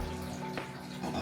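Hot water running from a tap in a glass igloo in Finland, a steady close splashing flow with a brief louder surge partway through.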